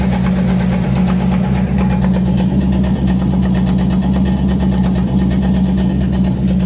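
Engine of a 1966 Ford Ranchero idling with a loud exhaust, a steady, close, deep rumble with an even low throb throughout.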